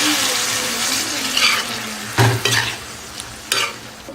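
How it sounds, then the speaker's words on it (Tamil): Eggplant, onion and tomato sizzle and hiss as they sauté in hot oil, with a few louder scraping stirs breaking in now and then. "ஒரு 2 நிமிஷம் நல்லா எண்ணெயிலே வதக்கலாம்."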